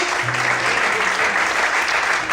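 Congregation applauding during an evening church service, a steady dense wash of clapping throughout with a faint voice beneath.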